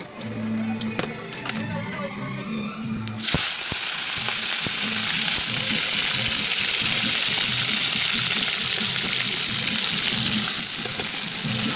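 Shrimp frying in a pan, a loud, steady sizzle that bursts in after a few seconds of quieter kitchen sounds and then holds continuously to the end, with a voice talking faintly underneath.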